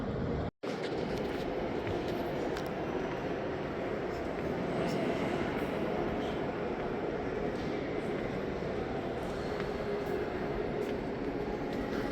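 Steady, loud rumbling of a train arriving at a station in Chicago, with broadband rail noise throughout, a brief dropout near the start, no distinct horn or braking.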